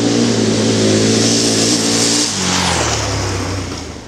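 A KTM 1190R Adventure motorcycle engine revs hard while being ridden aggressively, a loud, sustained engine roar with steady harmonics that dip and shift in pitch midway as the throttle changes.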